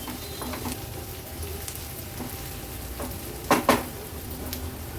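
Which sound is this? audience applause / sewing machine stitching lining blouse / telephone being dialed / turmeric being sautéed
turmeric being sautéed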